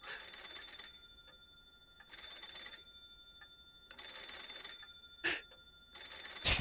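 In the PARANORMASIGHT horror game, an old telephone bell rings in bursts of about a second, separated by short silent gaps and repeating several times, loud and close, with no talking.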